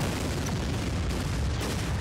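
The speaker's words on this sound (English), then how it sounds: "That's a big explosion." A big explosion in the tank artillery game Shell Shock Live comes as a loud, continuous booming roar that fills the whole moment with dense rumbling noise and no talk.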